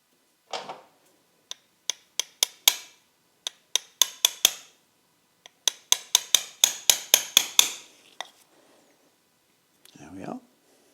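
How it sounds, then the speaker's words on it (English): A socket being tapped to drift a new seal into a Yamaha XJR 1300 clutch slave cylinder: bursts of light, sharp metallic taps in quick runs with short pauses, close and clear, followed by a soft rustle near the end. "use the socket, and you're hitting just around the outside, and just drift it in very gently."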